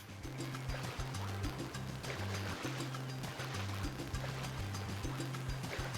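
Water sloshes and splashes steadily around a video game character who has fallen in, over a pulsing low game soundtrack with no talk.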